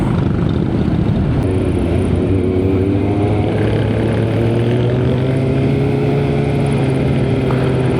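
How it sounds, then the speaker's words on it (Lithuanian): A column of many motorcycles riding together at a season-opening ride, a dense, steady engine drone with rising and falling revs, loud and continuous with rushing wind noise. "Labai daug motociklų."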